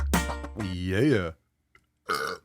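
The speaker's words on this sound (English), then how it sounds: "Every time I get a burp going." A long, drawn-out burp with a rising and falling voiced tone, followed after a short pause by another gurgling vocal burst, loud and close.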